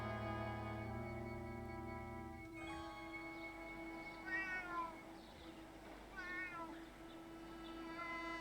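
A cat meows several times, with rising and falling harmonic cries, over a sustained low tonal drone in a quiet indoor scene; no talking.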